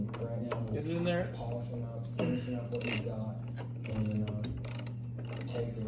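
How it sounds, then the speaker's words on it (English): A ratchet fitted with a 14 millimeter socket works a bolt on a John Deere snowmobile chain case, giving quick bursts of clicking under a steady hum while someone talks. "So I'll put this 14 millimeter bolt or socket on there."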